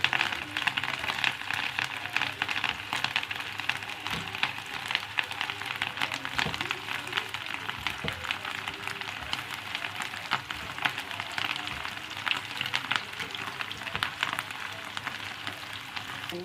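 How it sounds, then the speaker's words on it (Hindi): Chicken kofta frying lightly in a pan, a continuous crackling sizzle with dense popping that sounds almost like rain, steady and close throughout with no talking. "इसको हल्का सा हम फ्राई कर लेंगे"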